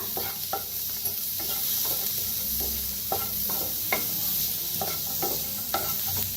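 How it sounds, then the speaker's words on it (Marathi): Chopped onion roasts in a hot pan on a gas stove, a steady close hiss of sizzling broken by regular scraping strokes as it is stirred, with no voices. "आता गॅसवर ठेवलेला आहे पॅन चांगला गरम झालाय। कांदा भाजून घेऊया।"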